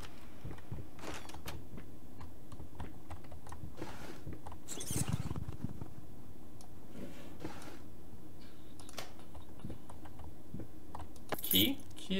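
Keys jangle as they are picked up in the horror video game Layers of Fear, with a short metallic rattle near the middle and another brief jingle near the end over a low, quiet ambient background.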